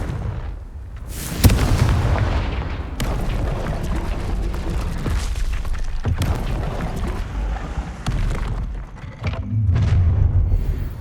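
Repeated blasting-spell explosions from the Hogwarts Legacy video game boom out close and loud, several heavy bursts with rumbling tails spread across the stretch, no talking over them.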